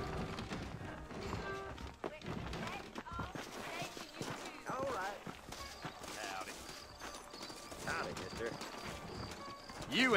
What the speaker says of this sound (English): You ain't gonna find sturdier horses than these in all of New Austin.